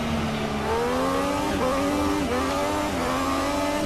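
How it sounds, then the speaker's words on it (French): F1 race car engine in the video game Forza 6: a loud, steady high-pitched engine whine that climbs and dips through gear changes, alone and continuous throughout. "Étrange le bruit de ce moteur quand même."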